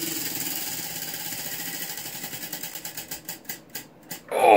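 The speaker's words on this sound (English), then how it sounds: "Let's spin the wheel." A prize wheel spins with a steady mechanical whir, its clicking turning into slower, more widely spaced ticks as it winds down, ending on a louder final burst.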